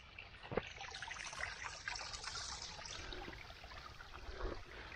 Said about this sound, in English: and there are all these little streams